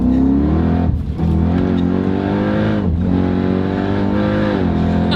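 An 805 wheel-horsepower all-wheel-drive Jeep Trackhawk accelerating hard, its loud engine climbing in pitch through the gears with brief dips at each shift, heard from inside the vehicle.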